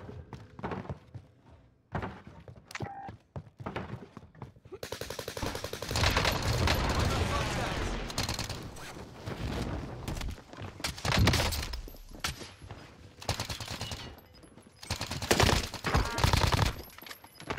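Gunfire in Call of Duty: Warzone Rebirth: rapid automatic bursts and heavy thuds, loud and dense through the middle, with sharp isolated shots early and later, and a voice talking briefly in between.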